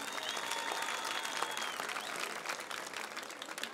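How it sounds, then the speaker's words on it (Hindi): An audience at a literature festival in Quetta gives dense, sustained applause that stays fairly even throughout and sounds somewhat distant and soft. "एक बार भरपूर तालियां बजाइए"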